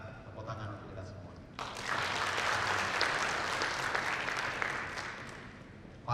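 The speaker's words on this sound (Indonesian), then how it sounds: "Maka tepuk tangan untuk kita semua." Applause from an audience at a corporate client gathering breaks out abruptly after a moment of quieter room sound and continues steadily for several seconds.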